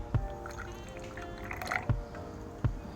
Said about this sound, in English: Add your hot water.